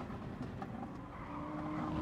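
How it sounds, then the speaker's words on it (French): A race car brakes hard in Gran Turismo Sport, its engine rumbling under broadband tire scrub that rises into a faint squeal near the end, close and continuous with no voices. "ça freine fort ici"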